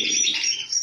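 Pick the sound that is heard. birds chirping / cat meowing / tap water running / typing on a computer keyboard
birds chirping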